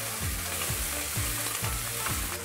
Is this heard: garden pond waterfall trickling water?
no